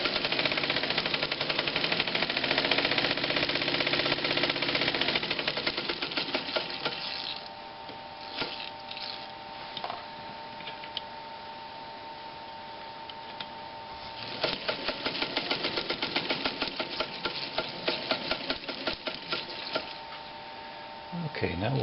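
A Read's sailmaker sewing machine running at full speed gives a loud, steady mechanical rattle and whir, eases back to a quieter hum in the middle, then speeds up again to a dense, rapid chatter.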